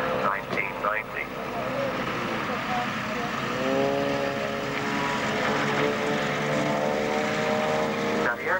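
Propeller drone of a Bristol Blenheim aircraft flying at the 1999 Enniskillen air show, a steady loud engine tone with slowly shifting pitch as it passes, with talk over it throughout.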